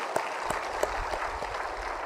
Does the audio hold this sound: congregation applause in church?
yes